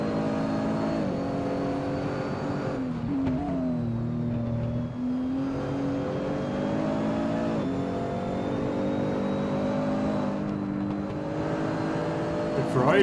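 Nissan GTR race car engine in simGT racing on Road Atlanta, heard from on board: steady loud engine drone rising and falling through gear shifts, with commentators talking over it.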